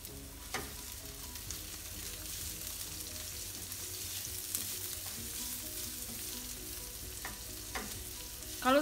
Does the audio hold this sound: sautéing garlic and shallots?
yes